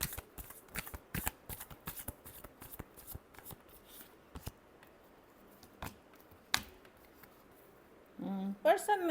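Tarot cards are shuffled in a series of sharp, riffling bursts and snaps, close and crisp, thinning out before a voice starts speaking at the end.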